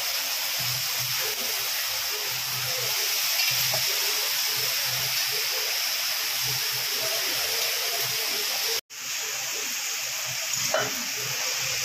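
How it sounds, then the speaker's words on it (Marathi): Sprouted moth beans fry uncovered in a pan, giving a steady broadband hiss of sizzling with soft stirring scrapes and low thumps, and a brief dropout near the end. "आता ही मटकी अशी फ्राय करायची. नुसतं फ्राय करत राहायचं"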